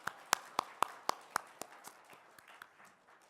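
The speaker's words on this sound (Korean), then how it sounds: "우리 이분들 위해서 축복의 박수 한번 해드릴까요?" A church congregation clapping in blessing, a few sharp, evenly spaced claps that loosen and fade into softer scattered ones, moderately distant in a quiet room.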